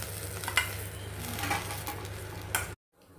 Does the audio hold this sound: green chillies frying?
yes